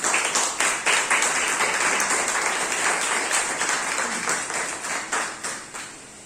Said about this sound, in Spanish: Entonces denle un aplauso, hermano.